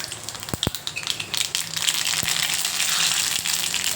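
Cumin seeds dropped into hot oil for a tadka in a Maharashtrian kitchen, with a few sharp crackling pops at first that build into a steady, close, bright sizzling hiss, with no talking.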